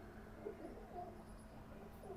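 A Fakir Gul pigeon, a round-headed bazaar-bred breed, gives soft, faint cooing in a quiet space, low murmuring calls with no talk over them.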